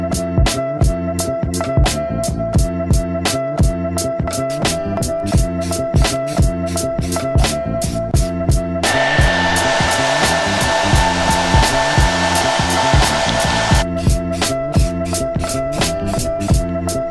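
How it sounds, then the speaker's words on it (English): A hair dryer blowing to heat fresh paint on a car bonnet, a loud continuous whine with a rapid regular pulsing, surging into a stronger rushing blast for several seconds midway before settling back; no talking. "So we have a hairdryer."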